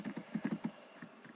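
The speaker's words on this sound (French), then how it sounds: "On entend tous mes bruits de clavier." A computer keyboard is typed on in a quick, uneven run of faint clicks, picked up close by a laptop's built-in microphone.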